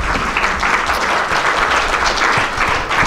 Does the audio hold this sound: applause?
yes